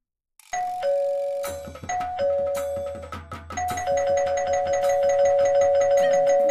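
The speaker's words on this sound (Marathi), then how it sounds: "कधीपासून बेल वाजते तुम्हाला ऐकू येत नाहीये का?" A doorbell rings loudly and repeatedly in a household scene, its clear chime tones sounding one after another in a steady, overlapping sequence with no talking.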